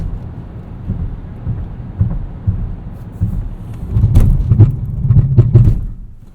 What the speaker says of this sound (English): here's a stop from 60 miles an hour